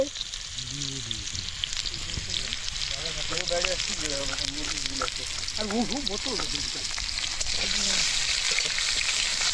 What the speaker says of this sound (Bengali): কড়াতে আলু দিয়ে দিচ্ছে